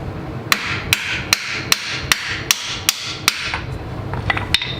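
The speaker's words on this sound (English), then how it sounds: "and then hammer that back through" A hammer strikes a bolt, driving it back through a Honda Goldwing motorcycle engine mount in about ten sharp metallic blows at a steady, even rhythm, close and loud, with a few quicker taps at the end.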